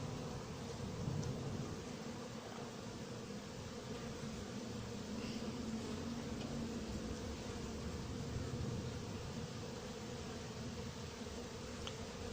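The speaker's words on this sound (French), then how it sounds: "Tiens, il vole l'autre frelon." Hornets buzz in a steady, fairly faint drone around an anti-hornet tent of 6 mm mesh outdoors, with no clear gaps or nearby voices.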